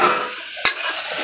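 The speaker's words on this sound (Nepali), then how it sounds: "अब चाहिँ मासुलाई राखेर भुट्छु एकछिन फेरि एकछिन होइन धेरै बेरसम्म भुट्छु" Goat meat frying in a pan with spices, a steady sizzle broken by one sharp scrape of stirring midway, close and loud with no voices.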